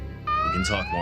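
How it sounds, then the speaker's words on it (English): An alarm sounds in the Valkyria Chronicles 4 video game as a steady rising electronic tone with bright harmonics. It starts abruptly partway through and stays loud under a voice that talks over it. "That's the alarm."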